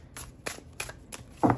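Tarot deck of sturdy cardstock shuffled hand over hand: four soft, papery riffling slaps at a loose steady pace, close and quiet, ending in a brief louder knock.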